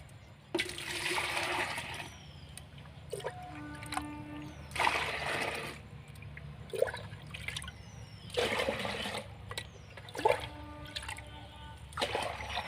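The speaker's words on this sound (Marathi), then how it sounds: "आणि आता याच्यामधलं मी पाणी काढून घेत आहे" Water pours and splashes in repeated bursts as homemade liquid plant fertilizer is scooped and drained through a strainer, with gurgling and trickling between pours, no talking.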